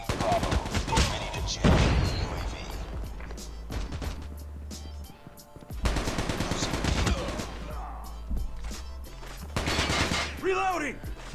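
Gunfire in Call of Duty Mobile on the Meltdown map: repeated bursts of rapid automatic shots in several clusters with brief pauses, close and loud, mixed with game effects and occasional talk.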